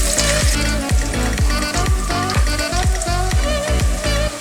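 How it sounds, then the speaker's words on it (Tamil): Crushed garlic fries in hot oil, crackling loudly and close up, with rhythmic bursts of sizzle and scraping as it is stirred. "இந்த பாதியை வந்துட்டு எண்ணெயில் போட்டு தட்டி வச்சுருக்கோம்ல, அந்த பாதியை போட்டுக்கோங்க."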